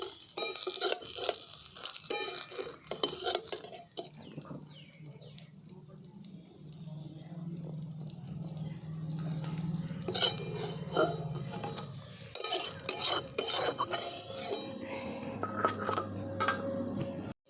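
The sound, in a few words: fried fish being lifted out of the pan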